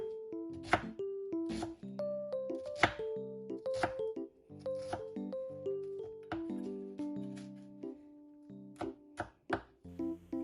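A knife finely mincing onions on a cutting board, steady rhythmic taps and thunks in quick succession, close and clear with no talk.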